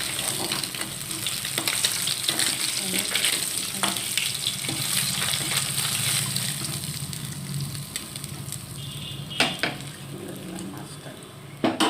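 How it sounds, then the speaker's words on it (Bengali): Koi bhola fish frying in hot oil in a pan, thick cut pieces, a steady close sizzle over the whole stretch with occasional stirring and the clink of utensils against the pan. "এই তেলটার মধ্যেই আমি সমস্তটা ভেজে নেব"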